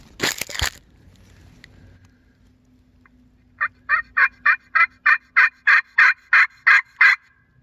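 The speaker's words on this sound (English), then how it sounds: "If we can get him to sound off again." A wild turkey gobbles in the woods during a turkey hunt: about a dozen loud, rapid, evenly spaced gobble bursts in a rolling run, after a sharp burst near the start and quiet woodland in between.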